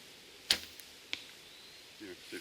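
A Howard Hill-style longbow releases an arrow with a sharp snap, followed by a second softer thwack a moment later, both near and brief against a quiet outdoor background, with a faint voice starting at the end.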